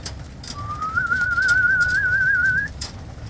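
Racing pigeons at a loft, with a thin, wavering whistle-like tone sustained for about two seconds over low ambient rumble and scattered soft flutters.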